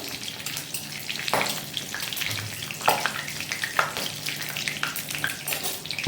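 Onions frying in hot oil in a pan for mutton curry, a steady close sizzle with crackling bursts and occasional stirring scrapes, no one speaking.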